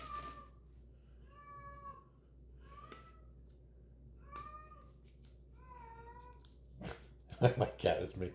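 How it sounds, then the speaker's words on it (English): A house cat meows insistently indoors, five drawn-out cries spaced a second or so apart, fairly close but not loud, followed by some clattering and rustling near the end. "my cat is making so much noise."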